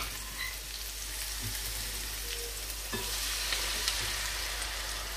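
Beaten egg poured into a hot pan with golden-brown fried food for a pap-and-egg breakfast, giving a steady loud sizzle and frying hiss with small crackles throughout, close by and without talk.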